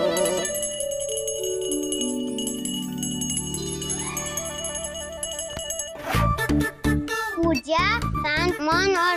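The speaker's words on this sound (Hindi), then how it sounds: "ये घंटियां बजाकर माँ की नींद मत खराब करो।" Small hand bells ring with bright, sustained metallic tones that fade slowly, followed by quicker jangling strikes, and a voice speaks over the later ringing.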